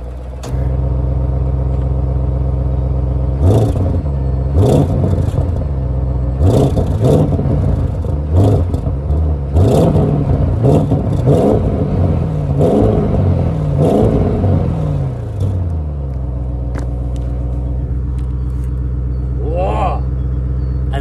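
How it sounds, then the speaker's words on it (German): Audi RS6 Avant engine pulling hard in RS mode, a loud deep rumble rising and falling through repeated revving surges, then easing to a steady cruise, with people talking over it. "Obwohl er Ottopartikelfilter hat, hört er sich sehr, sehr gut an, aber es ist ein Audi."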